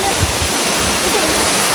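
A waterfall pours with a steady, dense roar of rushing water at a swimming spot, loud and close for the whole stretch with no break.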